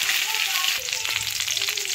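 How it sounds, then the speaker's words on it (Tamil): Garlic cloves and curry leaves frying in oil for ragi semiya upma, a continuous bright close sizzle with faint scraping underneath, no voices. "பூண்டு பல்லு லேசாக செவந்தோனைய கருவேப்பிலை சேர்த்துக்கலாம்"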